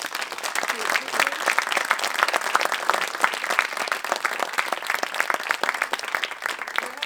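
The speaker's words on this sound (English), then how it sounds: "a big round of applause" A dense burst of applause from a film festival Q&A audience, many hands clapping quickly and loudly, with a few voices mixed into the noise.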